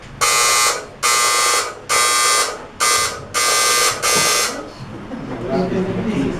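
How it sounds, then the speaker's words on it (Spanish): A Mexican seismic earthquake alarm blares in six loud, evenly spaced buzzing pulses, then cuts off as murmuring voices and room noise take over. "Alarma sísmica"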